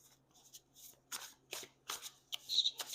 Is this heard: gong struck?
no